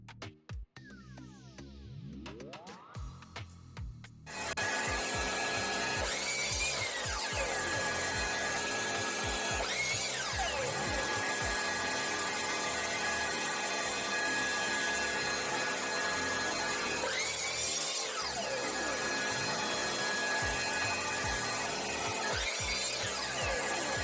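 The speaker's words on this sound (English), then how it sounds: "Then moving back to make the cut using my miter saw." A miter saw cuts through old pallet wood for DIY wall shelves, its loud, steady whine running without a break for about twenty seconds after a short, quieter start.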